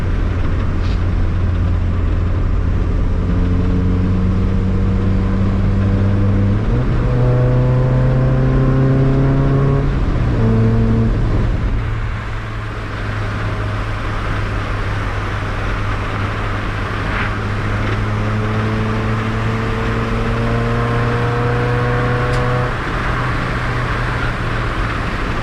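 A Mazda NA Miata engine revs hard while driving, loud and close, climbing through repeated rising pulls with shifts between them and a brief lift off the throttle midway.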